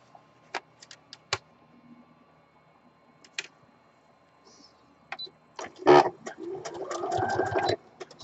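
A sewing machine sews a straight stitch on a Dollar Tree acorn pillow project, with scattered faint clicks and taps first, then a short burst of steady close motor whirring near the end.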